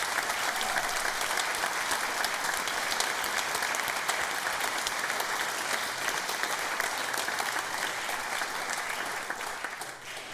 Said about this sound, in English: I think a round of applause for all of them.